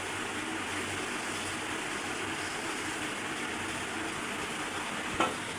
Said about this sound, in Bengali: এরপরে যে মাছগুলো দিয়ে দিচ্ছি